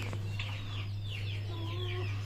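An Iranian partridge in a farmyard pen gives short clucking calls, with a few drawn-out notes and faint bird chatter, over a steady low mechanical hum.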